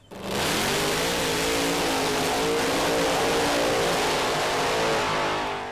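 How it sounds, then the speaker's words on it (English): A specially modified police highway patrol car drag racing at the old Surfers Speedway, revving hard with a loud, steady engine roar and heavy tyre noise as it burns rubber, close and continuous throughout. "the specially modified highway patroller took it right up to the local Rev Brigade, leaving plenty of rubber on the tarmac at the old Surfers Speedway"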